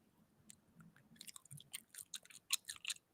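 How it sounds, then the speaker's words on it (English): Close-up ASMR mouth sounds of someone chewing sticky mochi: wet smacks, clicks and squelches come in an irregular, quickening burst, quiet and intimate with no talking. "Slurping mouth noises."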